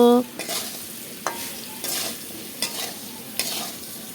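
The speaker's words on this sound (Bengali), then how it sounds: "নুন হলুদ দিয়ে আলুটাকে সুন্দর করে লাল লাল করে ভেজে নেব" Potatoes fry in oil with salt and turmeric in a pan. A spatula stirs them in several scraping strokes over a steady soft sizzle, close and with no talking.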